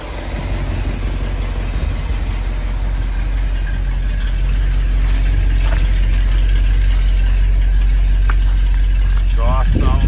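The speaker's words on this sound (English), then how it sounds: "Exhaust sounds good." The 390 V8 engine of a 1972 Ford F100 pickup idles with a deep, steady rumble close by, while a voice speaks briefly over it near the end.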